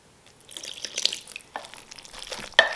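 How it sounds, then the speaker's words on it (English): Stock splashes into a Thanksgiving side dish mixture with eggs already added, a brief liquid pour with drips and spatters, close and moderately loud, ending in a sharper splash. "I'm just gonna add a splash more stock."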